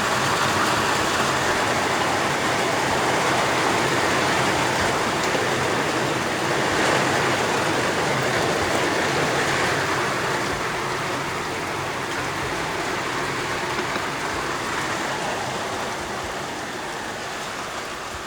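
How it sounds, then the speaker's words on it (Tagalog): Heavy rain pouring down in a steady, dense roar that fills the whole stretch without pause, loud and close, with no voices over it. "Lumakas na po, ulan."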